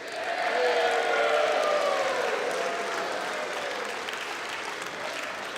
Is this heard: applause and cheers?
yes